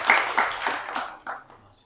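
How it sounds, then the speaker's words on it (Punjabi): Audience applause at a Punjabi poetry evening in Jhang: a short burst of scattered clapping that starts lively and quickly fades out within about two seconds. "ਇੱਕ ਵਾਰੀ ਫਿਰ ਤਾੜੀ ਹੋਣੀ ਚਾਹੀਦੀ ਜੀ"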